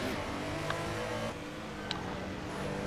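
Historic race cars, including a BMW, lap Laguna Seca in a racing video game, their engines holding a steady, droning roar with a couple of brief sharp clicks.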